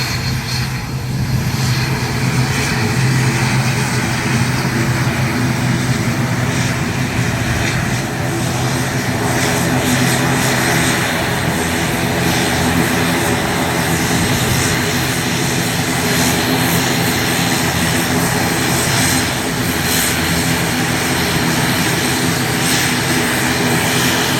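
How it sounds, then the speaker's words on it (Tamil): An IndiGo passenger airplane arriving from Chennai roars steadily and loudly throughout, a continuous engine drone with no voices over it. "சென்னையிலிருந்து வந்திருக்கக்கூடிய இண்டிகோ விமானமாக இந்த விமானம் இருக்கின்றது"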